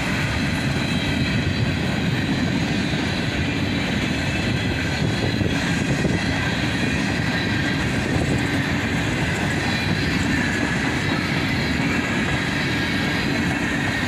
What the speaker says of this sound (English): And finally the end of the train goes by.